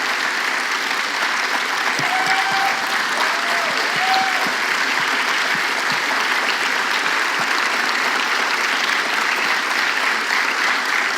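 A church congregation applauds its staff in a long, sustained ovation, loud and even throughout, with a few faint cheers rising briefly early on.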